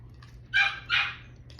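A dog barks twice indoors during a pizza meal, two short, fairly faint barks from across the room over a low background hum.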